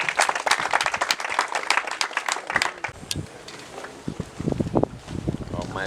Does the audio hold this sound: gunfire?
no